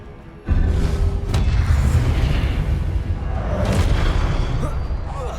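Fiery Confringo spell blast in Hogwarts Legacy combat, a sudden loud booming burst followed by a sustained rumbling roar with further whooshing impacts layered on top, close and heavy.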